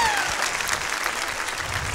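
Studio audience applause on a 2006 Turkish television talk show, a steady broadband clapping wash that stays loud and even from start to finish with no talk over it.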